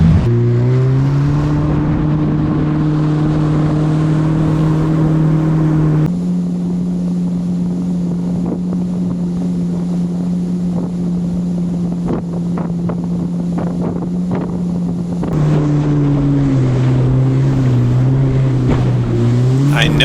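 A Yamaha WaveRunner jet ski runs out on the Gulf of Mexico at sunrise, its engine droning loud and steady for the whole stretch, the pitch shifting with throttle changes amid heavy wind buffeting.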